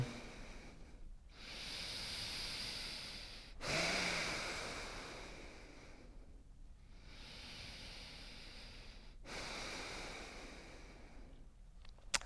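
Slow, deep breaths during a yoga downward dog pose, each long inhale and exhale heard close and soft with brief pauses between them in a quiet room.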